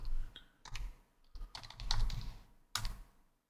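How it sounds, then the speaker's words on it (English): Quick bursts of keystrokes on a computer keyboard, close and clear, come in uneven clusters with short gaps and end in a firm final key press, without any talking. "I type simply a sudo apt install"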